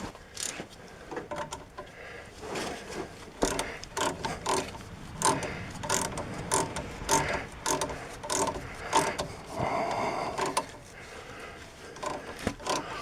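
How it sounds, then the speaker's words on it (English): Ratchet wrench loosening a rusty 9/16 nut on a sway bar link of a Chevy Avalanche/Silverado, a steady run of close, fast ratchet clicks in repeated bursts with brief pauses and scraping metal, no talk. "I think I'm going to go grab a ratchet wrench for this"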